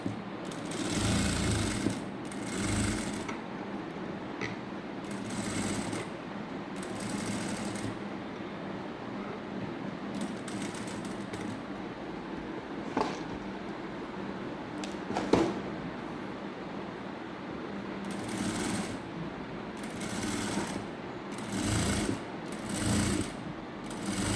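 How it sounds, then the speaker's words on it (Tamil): A sewing machine stitches a paper canvas neck pattern with a quarter-inch seam, running in repeated short bursts with brief pauses between them. The motor whirs steadily and fairly quietly within each burst. "இப்படியே கால் இன்ச்சில் தைச்சிட்டு வாங்க"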